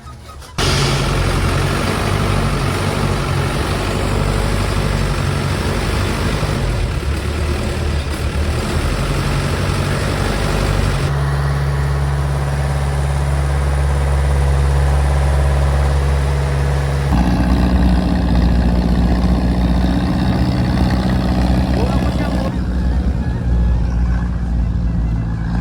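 A motorboat engine drones steadily while ferrying across a river, a loud continuous low rumble that holds throughout with slight shifts in pitch and tone, and no voices.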